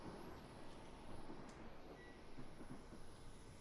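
Steady rumble of a passing commuter train in a train driving game on the London to Brighton line, a continuous mid-level wash of wheel and rail noise with faint tonal whine above.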